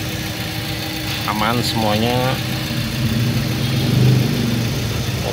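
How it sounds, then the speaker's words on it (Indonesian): A Suzuki SX4 S-Cross engine idles smoothly and steadily at close range after an ignition coil replacement, a constant even hum while someone talks briefly over it. "Ini suara mesinnya terdengar halus sekali ya sobat ya."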